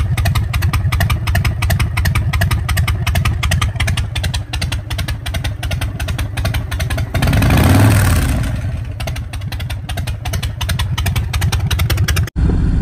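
A Harley-Davidson motorcycle engine idles with a steady, loping three-beat pulse, close and loud throughout, briefly swelling louder midway before settling back.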